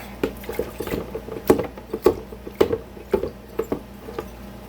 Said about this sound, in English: This is just a rag. I'm going to get as much of the oily residue off that I can.